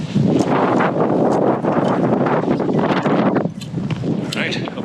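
Chilly wind blowing off a glacier near Jasper roars steadily and close across the whole stretch, buffeting and rustling with gusts, dipping briefly before rising again.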